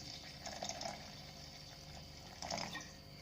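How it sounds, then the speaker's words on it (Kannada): Water is poured into a mixer jar of ground green gram paste, making two faint, short splashing pours separated by a quiet gap. "ಇದಕ್ಕೀಗ ಅಗತ್ಯಕ್ಕೆ ಬೇಕಾದಷ್ಟು ನೀರು ಹಾಕ್ತೀನಿ."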